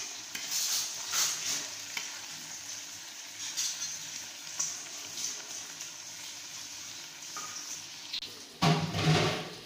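Onions fry in mustard oil in a pan, giving a steady, close sizzle broken by occasional stirring scrapes, with a louder burst of crackling near the end.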